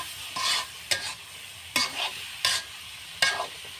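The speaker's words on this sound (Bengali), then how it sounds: "আমি এবার ঢাকনাটা তুলে একটু নাড়াচাড়া করে নামিয়ে নেব" Stalk (data) and egg stir-fry being stirred in a pan with the lid lifted, giving four or five distinct scraping strokes at a steady rhythm over a faint sizzle, close and fairly loud.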